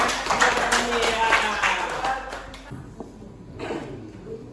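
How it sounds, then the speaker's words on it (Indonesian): A school audience claps briefly in scattered bursts that fade within a few seconds, with a voice speaking over and between the applause. "Baik, tepuk tangan buat ya."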